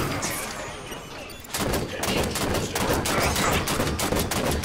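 Gunfire in the Halo 5: Guardians campaign: after a brief lull, rapid automatic bursts and repeated shots crackle loudly and densely over a sustained background of combat noise.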